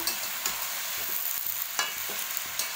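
Pumpkin greens with salt stirred in a pan over low sizzling, regular scraping strokes of a spatula repeating every half second or so, close and moderately loud with no voices.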